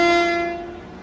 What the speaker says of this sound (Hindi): ऐसा लग रहा है कि कोई ट्रेन फिर से ओवरटेक करने वाली है